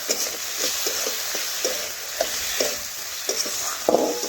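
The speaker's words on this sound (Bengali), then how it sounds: "এইভাবে নাড়াচাড়া করে বেশ কিছুক্ষণ ধরে দেখুন আমি কষে নিলাম মশলা ও আলু।" Potatoes with spices and salt being stirred and fried in a pan, a steady close sizzle broken by repeated scraping stirs, with no talking.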